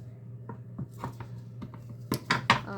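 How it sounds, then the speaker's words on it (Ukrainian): A knife cuts portions from a marbled caciotta with olives, pepper and cuttlefish ink, giving soft irregular taps and scrapes that build to several sharper clicks near the end over a steady low hum. "Зараз я вже порціонно ріжу і скуштуємо."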